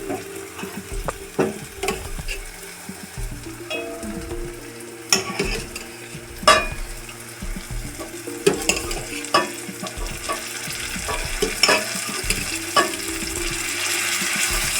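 Spinach greens sizzle in a hot tempering of oil while a utensil scrapes and stirs the pan in irregular bursts, with occasional sharp clinks and no talking.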